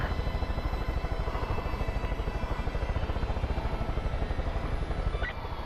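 A helicopter's rotor in Far Cry 5 thumps in a fast, steady rhythm, loud and constant throughout, with a faint brief tone near the end.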